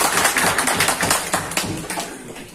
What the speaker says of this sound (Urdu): زوردار تالی کے ساتھ۔